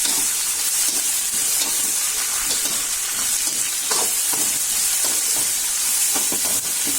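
Ingredients for a radish chutney with pepper sauté steadily in a hot pan, giving a continuous close sizzle and hiss with soft stirring scrapes and no talk.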